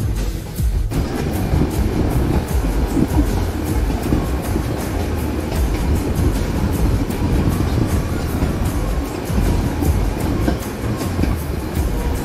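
The Coonoor to Ooty toy train runs along its track with a loud, steady rumble and a repeating clickety-clack of wheels over rail joints, close and continuous, with no talking.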